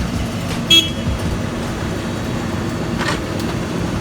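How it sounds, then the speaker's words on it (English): Roadworks and traffic outside a studio make a steady rumbling hum of passing vehicles. A short car horn toots early on, and a faint higher noise rises briefly later. "Total roadworks going on outside, so if you hear any noise, close everything up so that it's soundproof as best as possible."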